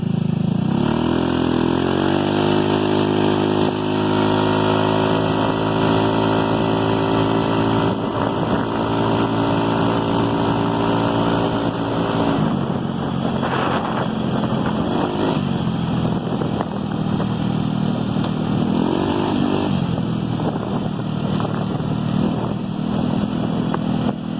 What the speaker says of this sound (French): je vous fais une petite accélération